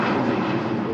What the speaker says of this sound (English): Rolling back out to Paris, the Air France Embraer